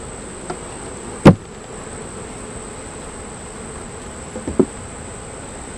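Honey bees hum faintly around a nucleus hive with little front-entrance activity, a thin steady drone with a couple of sharp nearby clicks.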